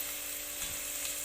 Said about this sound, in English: After it's hot, put the onion.